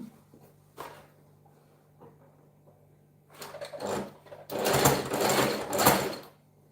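A sewing machine stitches fabric, starting quietly with short bursts and then running in a louder, sustained whir near the end.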